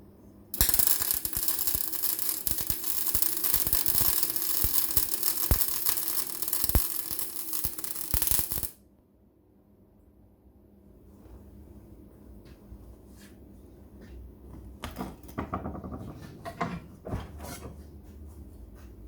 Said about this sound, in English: Set myself up a nice easy weld to do.